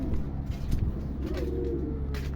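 Pigeons coo softly inside a pigeon loft, a low, steady murmur of cooing running throughout with a few brief chirps rising above it.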